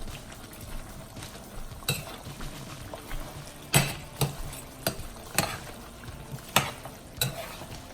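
Chicken wings are folded and tossed in Buffalo sauce, giving wet squelching stirs and intermittent clinks of a utensil against the bowl at an uneven rhythm, close and fairly quiet.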